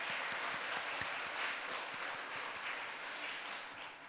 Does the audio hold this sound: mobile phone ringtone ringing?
no